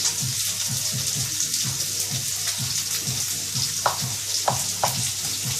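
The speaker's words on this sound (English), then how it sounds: "Here it's sizzling away nicely over there." Seafood sizzles steadily in a frying pan, a close, bright hiss with regular soft knocks underneath and a few sharper clinks.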